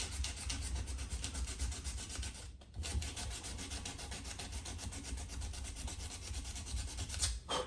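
A knife blade is hand-sanded with a grit paper in steady, rapid back-and-forth strokes, close and continuous, with one brief pause midway.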